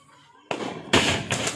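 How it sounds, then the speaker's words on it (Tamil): A Diwali firecracker bursts after a quiet moment, followed by two more sharp, loud cracks in quick succession close by. "கடைசி பட்டாசு"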